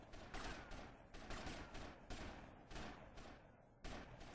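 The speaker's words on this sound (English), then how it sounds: "All right, time for the AK." Repeated bursts of AK rifle fire in the video game GTA Vice City Stories, loud and close, coming in rapid volleys with brief gaps between them.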